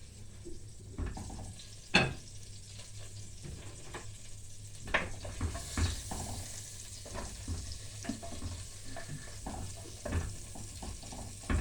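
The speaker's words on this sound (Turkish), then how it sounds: "güvecimin içinde etimiz kavruluyor" Meat browns in a clay güveç pot, giving a soft, steady sizzle with occasional stirring knocks and scrapes, fairly faint and close, with no talking.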